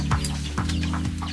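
Chickens cluck in short, repeated calls at close range, set over a steady low hum, with no voices.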